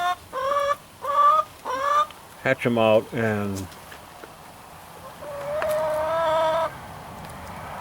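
Chickens in a backyard coop, a run of short loud clucks and squawks close by, followed by a longer drawn-out call, with someone talking briefly in between.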